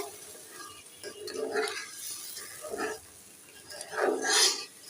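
Pangas fish curry simmering in a pot, a soft bubbling broth with irregular watery gurgles and swells, close and moderately quiet, with no talk.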